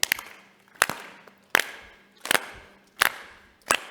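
A group of children clap together in a steady rhythm during a synagogue prayer service, six sharp, evenly spaced claps about three quarters of a second apart, fairly loud and close with a little room echo.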